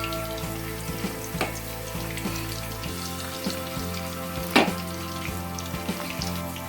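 Bread Manchurian pieces frying in hot oil, a steady close sizzle with crackling pops and occasional spoon taps, no voices.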